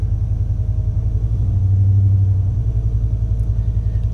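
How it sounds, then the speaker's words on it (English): A Dodge Challenger R/T V8, fitted with an aftermarket cam, idles after a cold start with a deep, steady, loud rumble. The lope swells slightly midway and then settles back into an even idle. "Cold start."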